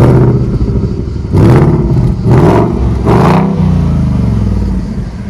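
A Ford Mustang Bullitt V8 revs up close and loud in three sharp blips over a rumbling idle. Each rev rises and falls quickly before the engine settles back to a steady throb.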